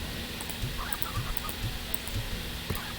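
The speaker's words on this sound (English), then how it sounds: "And now we can put the hens in here." Hens cluck softly in a coop in the Slime Rancher video game, a series of short repeated clucks over a steady low background hum.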